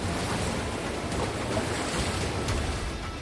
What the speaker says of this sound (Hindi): जहां नदी का शोर खौफ पैदा कर रहा है।